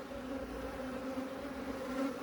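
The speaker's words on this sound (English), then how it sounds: "an entourage of worker bees" Worker honey bees buzz steadily around their queen inside a hive during queen supersedure, a close, continuous droning hum that holds level for a couple of seconds.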